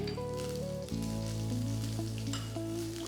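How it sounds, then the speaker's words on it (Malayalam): Kashmiri chilli and spices sautéing in a hot pan for veg kolhapuri, a steady close sizzle and frying crackle with a sharp burst of stronger sizzling about a second in, then continuous through to the end. "ഇതെല്ലാം കൂടെ ഇട്ടൊന്ന് വഴറ്റുക"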